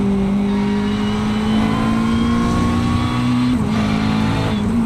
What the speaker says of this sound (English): McLaren does sound very good indeed.